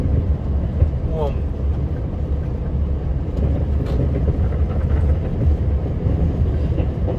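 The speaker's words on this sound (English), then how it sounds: "Yes, I think it's the train." Train rumbling past a snowplow during a snowstorm, a steady low heavy roar with faint clatter throughout, heard from inside the plow cab.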